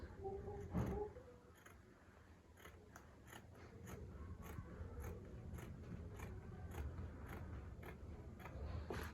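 Scissors cutting fabric for a hooded bubu gown, a run of soft, rapid snips close by and quiet, steady and unbroken.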